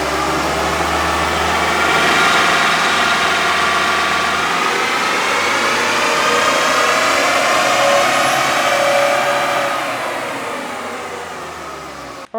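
A stock Mitsubishi Pajero engine runs on a dyno, a loud, steady mechanical roar with a rising whine that climbs over several seconds, then eases off and drops near the end, close by, with no talk.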